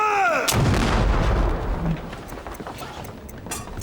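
A ship's cannon fires once with a loud, close boom, followed by a long rumbling roll that fades into the surrounding ambience. A shouted voice is heard just before the shot.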